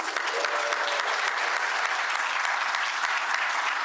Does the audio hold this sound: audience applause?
yes